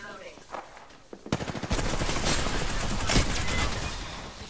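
Rapid automatic gunfire from a shooter video game erupts in dense, loud, sustained bursts after a quieter opening with a faint voice and a few scattered shots.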